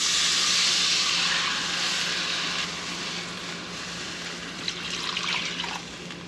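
Water runs steadily from a tap into a pot for birria taco stock, a loud, close, continuous hiss and splash that shifts slightly in tone as the pot fills.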